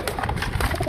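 Pigeons kept for sale coo softly and continuously at close range, a low murmuring burble with a few overlapping calls and no voices.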